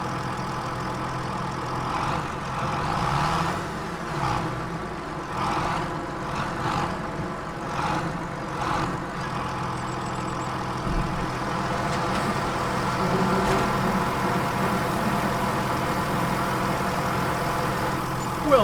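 Farm tractor hauling a grain trailer in Farming Simulator 25, its engine droning steadily at mid pitch near and continuous while driving over a tip area to unload grain, with no voices.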